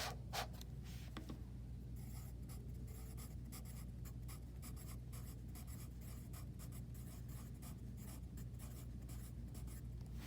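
A pen or pencil writes a number by hand on paper, a steady run of quiet close scratching strokes with small pauses between digits, alone over a low hum.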